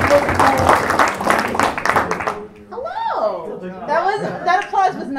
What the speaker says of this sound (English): That applause was not for you.